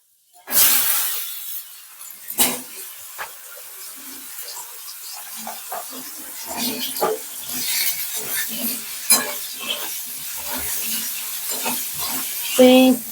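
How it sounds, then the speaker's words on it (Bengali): Pointed gourd frying in hot oil with five-spice seeds, a steady close sizzle with scattered clinks and stirring scrapes that builds louder over time. "পটলটা ভেজে নিচ্ছি"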